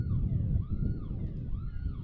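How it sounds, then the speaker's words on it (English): A wailing siren sweeps up and down in repeated rising and falling cycles near a soccer match, heard at moderate distance over a rumbling crowd-like background. "Siren's still blaring, Chaz."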